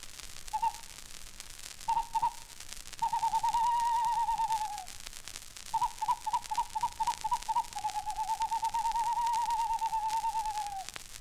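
A snowy owl call, given as a whistled human imitation by a Scottish bird mimic. Short clipped notes alternate with long sustained hoots that droop at the end, repeated clearly over faint static.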